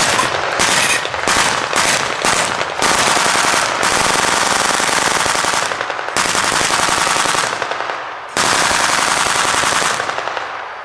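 Gas-operated Vickers K machine guns fire in long, loud sustained bursts at a firing display, a dense rapid clatter broken by a few brief pauses, with no voices.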